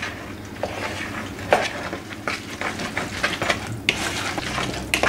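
Fritter batter of plain flour and egg with sweet corn is stirred in a bowl, giving repeated wet scraping and light clinks of utensil against the bowl in an uneven rhythm, close and fairly loud; no talking.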